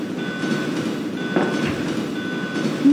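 Steady rumbling train ride in the Resident Evil 2 video game, continuous low clatter with faint tonal hum, heard close and alone without talk.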